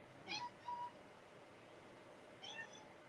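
Kittens meowing indoors, a few high thin mews close by, two quick calls and then another after a pause, over quiet background hum.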